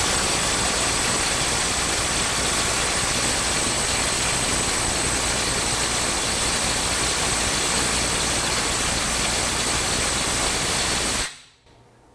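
Snap-On mid-torque impact wrench in high power mode 3 hammering continuously on a stuck bolt, a loud, dense, unbroken rattling drone held for about eleven seconds before it cuts off abruptly.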